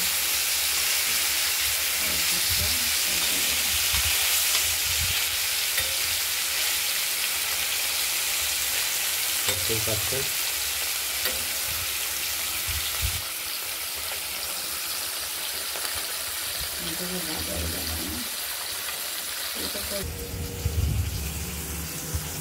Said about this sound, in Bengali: মাছগুলো এক দিকটা ভাজা হয়ে গেছে।